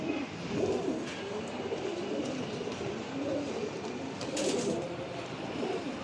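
A pair of old-breed Giribaz pigeons coos in low, soft, rolling murmurs that repeat and swell gently against a steady background hum.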